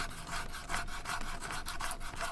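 Leather being rubbed and smoothed at a corner of a custom holster for a BFR 45-70 revolver, a steady close-up scraping and rubbing with faint rhythmic strokes and no talk.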